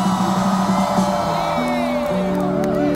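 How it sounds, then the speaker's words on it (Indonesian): A concert crowd at a rock festival roars continuously with shouts and cheers, a dense loud wash of voices with musical tones ringing through it. "Coba semuanya dari depan sampai belakang lu teriakkan paling kenceng dulu."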